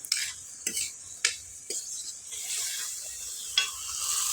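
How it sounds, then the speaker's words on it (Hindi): A spoon scrapes and clinks against a pan in a few sharp strokes as vegetables are tempered, followed by a rising sizzle of food frying. "उसके बाद में फैमिली सब्जी छौंक रही हूँ मैं"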